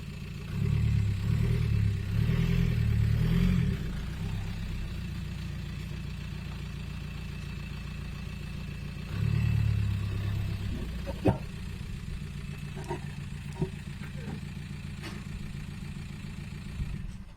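A 2006 VW Transporter T5 van on new wheels and tyres rolls forward with its engine running: a low, steady idle rumble that swells twice, with a few faint clicks and clunks.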